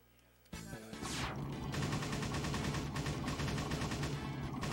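Rapid gunfire in the Point Blank light-gun arcade game on an insane-mode stage: after a brief quiet start, a dense, unbroken stream of fast shots and crashing impacts runs on, loud and steady, with game tones mixed in.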